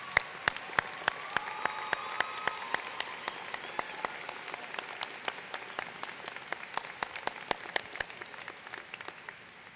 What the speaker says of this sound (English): Please join me as we applaud their support of and dedication to the success of our students.